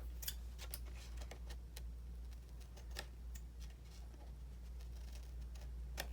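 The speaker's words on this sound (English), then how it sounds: "I make the impression with my corner rounder and then trim it off because this paper is just copy paper" Scissors trimming the corner of thin copy paper, a run of quiet, crisp snips and ticks in an irregular rhythm over a steady low hum, with no talking.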